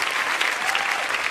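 A studio audience at a televised talent-show results programme bursts into dense, steady applause, loud and close, sustained throughout the short burst.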